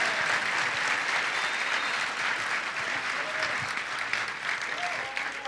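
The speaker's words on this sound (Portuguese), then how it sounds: "Agora vocês vão ter que aplaudir muito mais" An audience at a Christian youth gathering applauds in a steady, dense wash of clapping that holds loud and unbroken throughout, with a few voices faintly mixed in.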